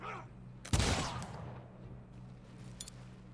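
A burst of gunfire in the strategy video game Humankind: one sharp volley cracks loudly, then trails into a fading rumble, with a couple of faint pops afterward.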